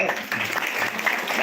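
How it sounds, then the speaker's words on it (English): Audience applause rises in a brief, dense patter of clapping hands at a satsang festival gathering, heard close and steady throughout. "Give him an applause."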